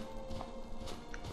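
Horse hooves clip-clop faintly in the video game Skyrim, a few soft irregular steps under a dense, continuous game soundscape with no talk.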